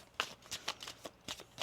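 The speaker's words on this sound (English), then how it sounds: "Let's get one more shuffle here." Oracle cards being shuffled in a few quick, crisp riffling bursts, close and fairly quiet, with short pauses between them.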